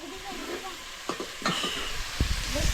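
Onion frying in a pan at home gives a steady close sizzle, broken by a few stirring scrapes and clatters as the pieces are moved around.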